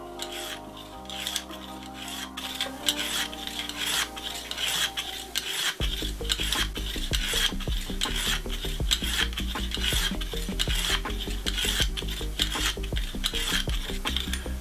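A knife is drawn across the hone of a Lansky Deluxe sharpening system from tip to heel, making a long run of evenly spaced, crisp rasping strokes over background music.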